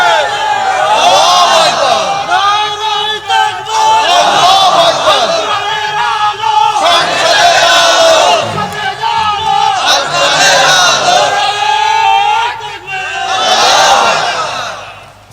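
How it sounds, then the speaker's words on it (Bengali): Young men at a religious gathering in Bangladesh shout takbir as a crowd, loud chanted calls rising and falling in several swelling waves, close and dominant. "আরে ভাই যুবকেরা কই তাকবীর দাও না"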